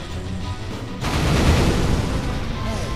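A bomb block explodes in the Japanese puzzle game Catherine, a sudden loud broadband boom that cuts in and then holds as a dense, rumbling roar.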